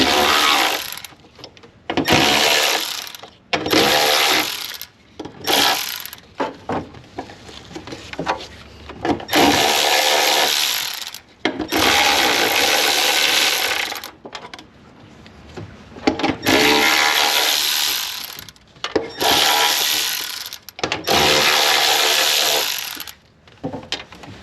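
A ratchet or power driver spins out an 8mm bolt during a 1999 Pontiac Firebird fuel pump replacement, loud bursts of rapid mechanical clicking and whirring broken by short pauses, close up.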